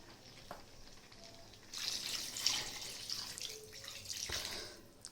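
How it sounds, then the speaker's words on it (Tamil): Water poured into a pot of chicken curry with onion, tomato, green chilli, coriander powder and ginger-garlic, a soft splashing pour and trickle rising midway and continuing for several seconds alone, with faint sizzling beneath. "தண்ணியை ஊற்றிடுவோம்."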